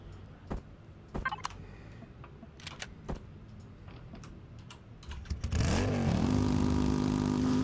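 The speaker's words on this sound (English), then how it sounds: "That sounds like a motorcycle." In the space survival game Empyrion Galactic Survival, scattered keyboard clicks give way to a loud engine that revs up and settles into a steady motorcycle-like drone for the last couple of seconds.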